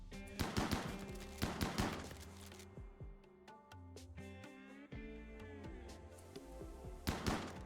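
Gunfire in the video game RimWorld comes as rapid clusters of sharp shots mixed with thuds, tonal game effects and music, pausing briefly before another burst near the end.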